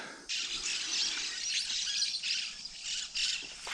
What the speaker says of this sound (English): I think they're budgies.